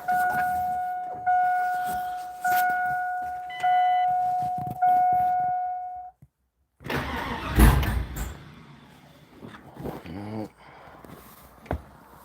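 A car engine cranks in repeated starter bursts and then catches and fires up with no gas pedal applied, running roughly afterward while a person talks nearby.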